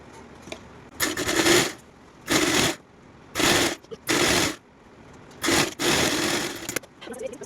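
A sewing machine stitches the bottom seam of a cut top in about six short bursts, each a second or so of fast, loud whirring chatter separated by quiet pauses while the fabric is adjusted.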